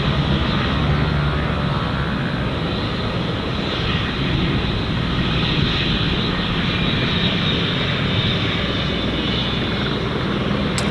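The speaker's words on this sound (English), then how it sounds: "I can hear some tri-rotors spinning up." Aircraft engines run up at Gold Coast Airport after an airshow, a loud continuous broadband roar that stays steady throughout, with no talk.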